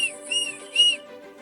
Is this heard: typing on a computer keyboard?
no